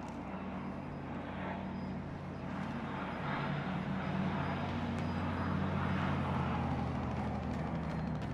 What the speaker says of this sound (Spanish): Helicóptero regresando a la base.